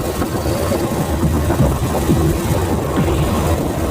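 A vehicle engine runs steadily and fairly loud, a low continuous rumble with no change in pace, standing alone as a sound effect in a horror story.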